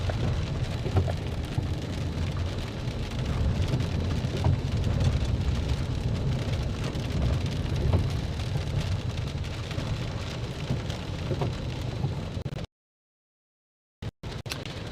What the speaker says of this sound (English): Sorry about the raindrop.